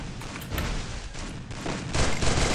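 SKS rifle fire in a Free Fire clash squad match, rapid cracking shots in close bursts with a heavier volley toward the end, no talking.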